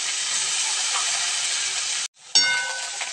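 A paste of green chili, ginger and onion frying in a pan gives a loud, steady hiss that cuts out briefly, then flares up again as it is stirred.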